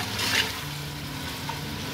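Chicken frying with onion and garam masala, a steady moderate sizzle with soft stirring and a low background hum throughout.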